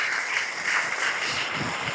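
An audience at a student drug awareness event applauds loudly to welcome guests onto the stage, a dense, steady wash of clapping through the whole stretch.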